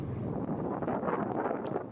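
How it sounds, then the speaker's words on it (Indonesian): Strong wind blows across the white-sand Cijeruk beach, a low, steady rushing that buffets the microphone for a couple of seconds with no talking. "angin berhembus begitu kencang"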